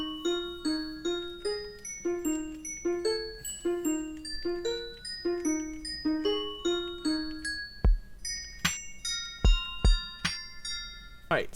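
Minecraft note blocks play a song as a plucked, bell-like melody in a steady repeating rhythm, later joined by sharp percussive note block hits, with no voices.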